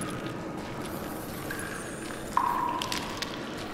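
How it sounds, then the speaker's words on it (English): Water dripping inside a cavern in the Call of Juarez Gunslinger video game: a couple of faint, high droplet plinks over a steady low ambient hum, quiet and fairly distant. "I hear water dripping."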